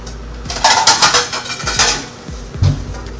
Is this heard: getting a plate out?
yes